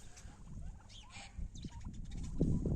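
A small flock of domestic turkeys, including bronze and red bourbon birds, mills about on a farm, giving scattered gobbles and soft clucks over shuffling, with a louder burst of calls near the end.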